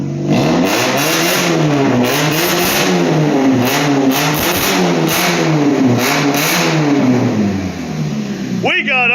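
A Scion xB with a loud aftermarket exhaust and new catalytic converter revs repeatedly, the engine rising and falling in rhythmic, throaty pulses, loud and close, ending with a sharp final blip.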